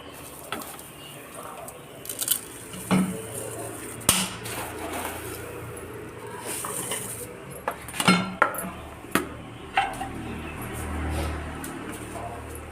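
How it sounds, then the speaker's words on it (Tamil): Vermicelli is added a little at a time to a pot of boiling water, bringing sharp metallic clinks and taps of a utensil against the pot over a soft bubbling background, with scattered quiet talk. "இப்போ நம்ம கொஞ்சம் கொஞ்சமாக சேமியாவை போட்டு நம்ம இது பண்ணுவோம்"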